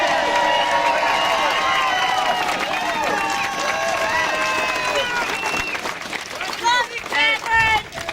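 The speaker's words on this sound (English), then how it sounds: "let's give a round of applause to Catherine for her over 10 years of serving our country in Afghanistan" A crowd at an outdoor march rally claps and cheers in a sustained, loud wave of applause with shouting voices mixed in. The applause thins toward the end, where close speech breaks through.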